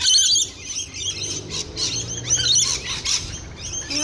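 Flock of birds chirping and squawking nearby, a dense, continuous chorus of sharp overlapping tweets and harsh calls with occasional louder bursts.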